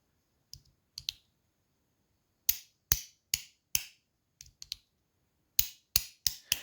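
Sharp keyboard switch clicks come in small bursts of two to four presses, separated by short silences, close and crisp with nothing else in the background.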